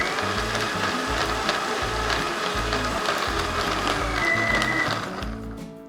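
An electric mixer blends a healthy protein drink with nuts: a steady, loud motor whir with a pulsing low churn that runs throughout, then eases slightly near the end.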